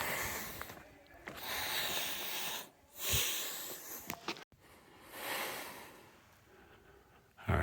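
Heavy breathing of a hiker climbing uphill on the Queen's Garden and Navajo Loop trail in Bryce Canyon, with repeated close, loud breaths and wheezy exhales in an irregular rhythm, some sharp snorting inhales, and no talking.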